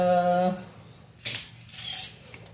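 A kitchen knife chops okra into thick pieces, with two crisp, separate cuts against a board that follow a short stretch of a voice.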